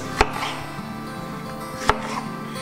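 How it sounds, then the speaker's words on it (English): Kitchen knife slicing a tomato on a board, two crisp taps of the blade against the board over a quiet background. "I'm just going to give it just a few slices"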